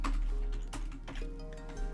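Quick, irregular clicks of keys being typed on a computer keyboard while writing C++ code, fairly close, over a low steady background hum.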